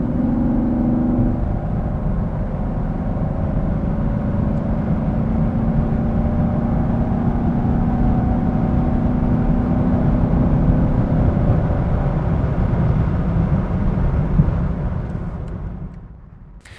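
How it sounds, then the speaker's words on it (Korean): A 2016 Chevrolet Camaro SS's naturally aspirated V8 engine and exhaust drone at steady highway speed, with road and wind rumble underneath, fading away near the end. "이렇게 배기음으로 가리면 되니까요"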